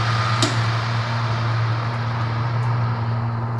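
An electric clothes dryer hums steadily just after being switched on, a continuous low motor drone with a brief click near the start, alone without talk.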